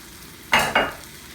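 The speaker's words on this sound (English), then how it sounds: "I'm going to add my chopped mushrooms and herbs. Just kind of stir it around." Chopped mushrooms and herbs are stirred in an iron skillet beside steak, with two quick close scraping, sizzling strokes over a soft background hiss.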